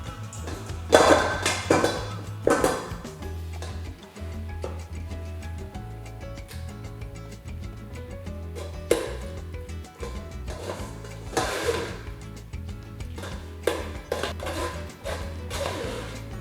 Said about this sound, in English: we're just still stirring it up and pressing it to get a lot of that moisture out of there.